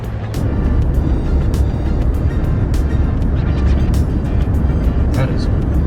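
A truck drives steadily along a road from a hiking area back toward a campsite in the Finger Lakes region, its engine and road rumble loud and continuous throughout, with a few faint clicks above.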